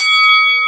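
A notification bell rings once, a bright, loud sustained chime with clear ringing overtones that holds steady and stands alone without any voices.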